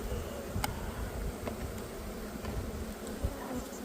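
Honeybees swarm and buzz densely at the front of an open hive, a close, continuous drone of many wings with a few sharp ticks mixed in.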